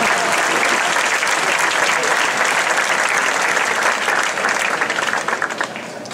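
Audience applause at a town festival proclamation for Sant Bartomeu, delivered by a music band: dense, steady clapping from a crowd, loud and sustained throughout before tapering slightly at the end.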